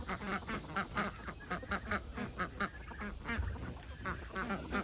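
Several newly acquired geese kept with chickens on a small homestead give a steady run of repeated honks and quacking calls, fairly close and continuous throughout, with no talking.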